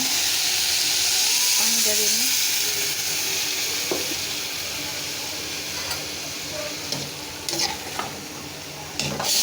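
Taro stolons cooking with garlic in a pan give a steady, close sizzle with occasional stirring scrapes and light utensil clinks.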